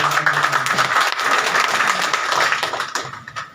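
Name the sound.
audience applause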